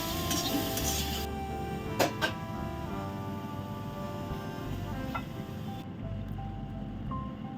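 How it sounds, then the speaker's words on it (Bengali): Mushrooms and vegetables sizzle steadily in hot oil in a pan, with a few sharp clinks of a utensil against the pan and a continuous close frying hiss throughout. "আমি সাঁতলে নেব।"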